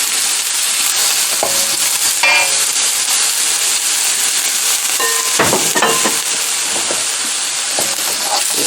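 Carrots and peppers sauté in a hot pan for fried rice: a loud, continuous sizzle close up, broken by scraping stirs and clinks of the spatula.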